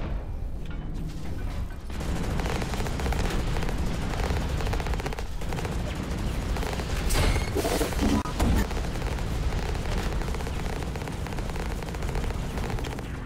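Gunfire from mechs in the video game Hawken, heard as dense, continuous bursts of shooting and blasts layered in a busy battle mix. The noise is loud and sustained throughout, with no speech.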